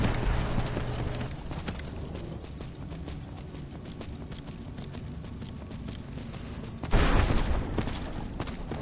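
Horse hooves clip-clop steadily in Skyrim Special Edition on PS5, a quiet continuous trot running throughout, with a sudden louder burst of game sound near the end.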